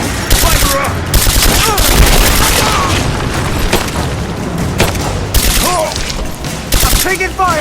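Dense gunfire in the video game Rise of the Tomb Raider on PS4: rapid machine-gun bursts and booming shots pour out almost without pause, loud and close, with shouted voices cutting through the fight.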